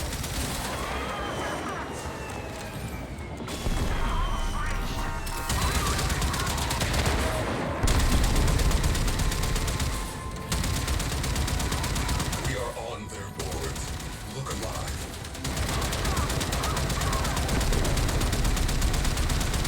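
Video game gunfire in Warframe, heard as dense, continuous volleys of rapid shots that stay loud for most of the stretch, with brief drops between bursts, while a person talks over it.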